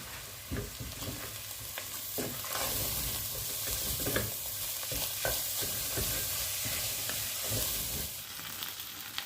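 About two tablespoons of tomato paste fry in a pan for a shepherd's pie, a continuous close sizzle broken by repeated scraping spoon strokes at an uneven rhythm, with no voices.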